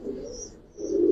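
A Giribaz pigeon hen gives a short, close, soft coo in two low swelling phrases, heard alone.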